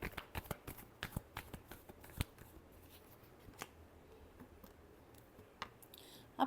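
Tarot cards are shuffled by hand in a last shuffle, with a quick run of crisp riffling clicks at first, then thinning to scattered taps and soft rustles close by in a quiet room.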